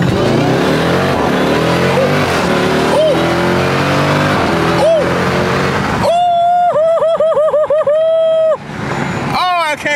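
A Jeep Trackhawk engine in track mode revs hard in repeated rising and falling bursts, loud and close. It follows a steady idle rumble with a voice speaking over it.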